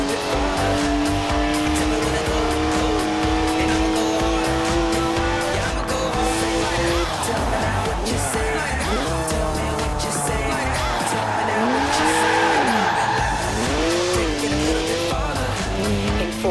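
Car drifting in Forza Horizon 4, a 3-litre twin-turbo straight six with 335 horsepower: loud sustained engine revving and shifting with long tyre squeals throughout, constant and close.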